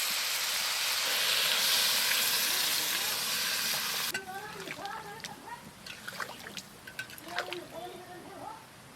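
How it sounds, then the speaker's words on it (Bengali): Water is poured into a pan of frying muli (radish) dal, and a loud, dense sizzle and hiss fills the first few seconds. It then gives way to quieter cooking sounds while people talk close by. "এবারে জল দিয়ে দেবো।"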